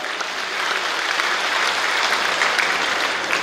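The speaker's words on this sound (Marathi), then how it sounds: "आपण सगळेजण एकदा जोरदार टाळ्या वाजवून माननीय देवेंद्र फडणवीस साहेबांचं स्वागत करूया." A large crowd at the Krushi Pandhari 2026 event in Pandharpur gives Devendra Fadnavis a vigorous welcome, with thick, even applause holding steady from start to finish.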